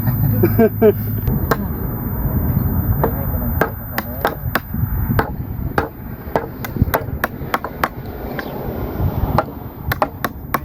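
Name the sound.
drilling a well for a hand water pump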